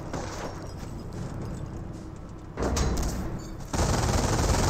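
MG42 machine gun fire in Company of Heroes, sustained rattling bursts over the battle din, jumping louder twice as new bursts start, with no talk.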